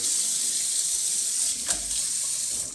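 A kitchen faucet sprays steadily, a bright hissing rush of water that runs without pause, close by.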